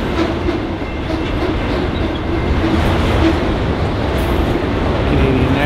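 A Canadian National freight train rolls past at close range in Texas, a loud continuous rumble of wheels on rail with a steady clatter and no voices over it.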